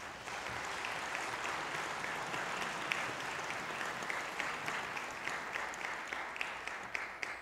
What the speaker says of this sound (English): Please give a big round of applause for all the parents.